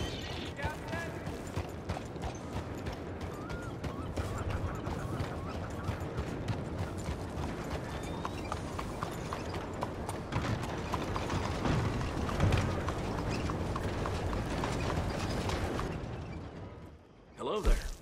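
Horse hooves clip-clopping in Red Dead Redemption 2, a steady rapid patter of hoofbeats running throughout at moderate volume, with speech over the top and a brief louder thump near the end.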